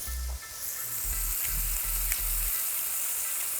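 Seasoned burger patties placed seasoned side down sizzle steadily in a single pot for a low-carb burger bowl, a continuous hiss with low bumps and rattles from the pot, close and alone.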